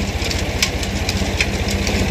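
A tractor engine drives a tubewell pump on a village farm in Pakistan, giving a close, loud, rhythmic diesel thumping with even beats and no speech.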